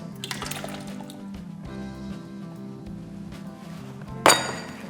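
Water pours into a cooker over chopped tomatoes in a steady, close trickle beneath a tonal backdrop, ending with a sharp clink near the finish.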